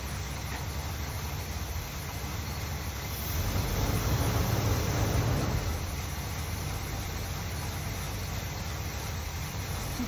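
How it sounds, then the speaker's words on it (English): A 1966 Imperial Crown's engine idles with a steady, rough low rumble and broadband hiss, swelling a little louder for a couple of seconds midway before settling back to an even idle, with no talk. "she idled down. She's running like you'd expect her to run."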